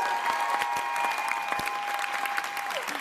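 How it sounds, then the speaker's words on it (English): Audience applause at a congress closing plenary: dense, steady clapping from a large crowd, with a faint tone humming underneath. "big applause."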